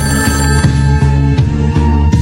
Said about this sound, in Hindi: एक रात अचानक फोन बज उठा।